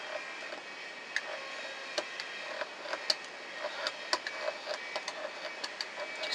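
A Prym i-cord maker being cranked with yarn gives off a steady run of small plastic clicks and ticks at a regular rhythm. The mechanism sounds close by and light, over faint background hiss.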